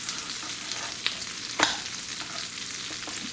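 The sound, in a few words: shrimp frying in butter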